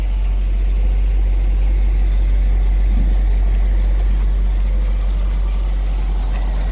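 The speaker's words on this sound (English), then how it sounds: "Motor sounds really good." A 2003 GMC box truck engine idles close by with a steady, deep low-pitched hum that holds evenly throughout.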